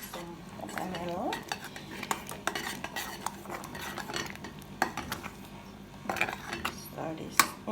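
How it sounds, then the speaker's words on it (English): A utensil stirs Jamaican cornmeal porridge made with coconut milk in a pot, giving repeated scraping clinks and soft knocks against the metal at an uneven pace, close by and moderately loud. "Continue to stir, because we don't want any lump"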